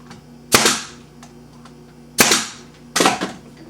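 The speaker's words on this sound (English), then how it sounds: "A few more nails in there." Three sharp, loud hammer blows drive nails into a wooden luthier's shooting board, the first two spaced well apart and the last following quickly, each with a short ringing decay and no talk.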